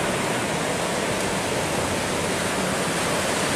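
Pacific Ocean surf breaking on a sunny beach, a steady, loud broadband roar of waves and spray filling the whole stretch without pause, close and continuous with no voices.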